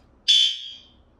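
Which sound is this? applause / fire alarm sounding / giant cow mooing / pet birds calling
fire alarm sounding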